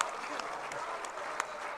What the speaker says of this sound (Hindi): एक बार भरपूर तालियों में बहुत शुक्रिया।